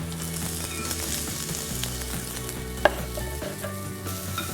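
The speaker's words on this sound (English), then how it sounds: "I'm going to add the shallots and garlic now." Shallots and garlic sizzle in oil in a small pan, a steady broadband frying hiss with one sharp clink partway through and no talking.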